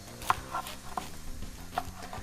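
A knife taps sharply on a cutting board in a few quick, irregular chops of vegetables, close and fairly quiet, with no talking.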